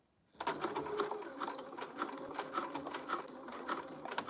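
A sewing machine runs nearby in a fast, even rapid-fire ticking patter that starts abruptly and continues at moderate loudness, with no talk over it.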